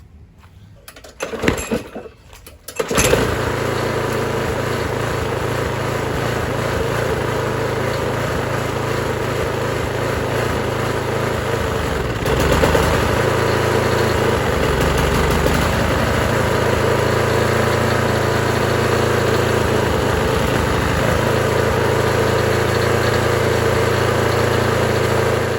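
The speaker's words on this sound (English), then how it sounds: "I'll start the engine up" A small lawn mower engine sputters through a few rough starts, then settles into a steady, close, droning idle that picks up slightly partway through.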